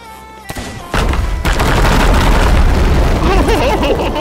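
A chain of gunpowder barrels blowing up in Sea of Thieves at the Ancient Spires gap, a sharp pop then a huge booming blast that rolls into sustained loud rumbling and crackling debris for several seconds.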